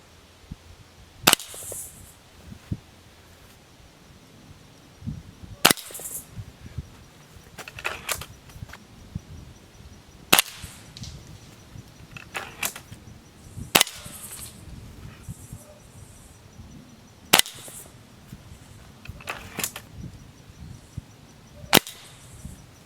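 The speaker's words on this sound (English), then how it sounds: "Let's turn this over and shoot one more." A Beeman Grizzly X2 air rifle firing .22 pellets, including Predator Polymag and JSB Exact Jumbo Diablo, gives five sharp loud cracks spaced several seconds apart, each followed by brief mechanical clicks and handling noises between shots.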